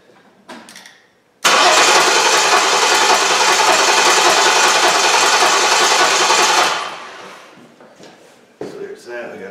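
A Jeep Liberty engine cranks briefly and catches, then runs at a loud steady idle for about five seconds before settling lower, with faint talk at the start and end.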